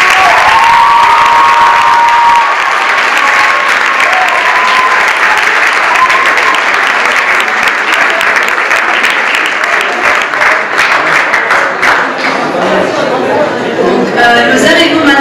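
A large audience applauds steadily throughout at a Model United Nations closing ceremony, dense sustained clapping with some cheering mixed in, loud and close, easing slightly near the end.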